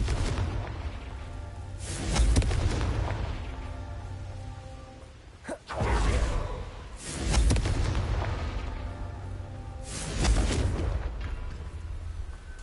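Confringo blasting spells exploding in Hogwarts Legacy on PS5, three heavy booming blasts spaced a few seconds apart, each swelling and fading with rumbling tails, plus a short sharp crack between the first two.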